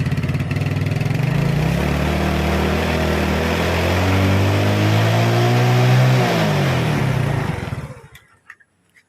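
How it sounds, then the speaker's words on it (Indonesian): A motorcycle engine with a fouled black spark plug revs loudly for several seconds, its pitch rising and falling, then cuts out abruptly and sputters into near silence. "saya coba naikkan RPM-nya"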